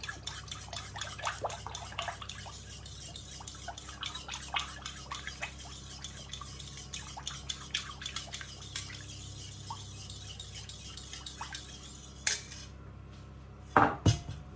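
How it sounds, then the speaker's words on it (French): Eggs being whisked in a bowl for an onion quiche, rapid repeated clinks of utensil against the bowl, close and quiet, with a few louder knocks near the end and no talking. "Je vais mélanger les œufs"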